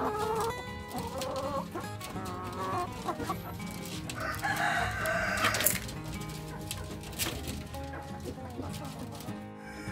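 Black Australorp chickens and a rooster cluck and call in a farm setting, dense and fairly close, with a louder burst midway, heard amid other ambient noise.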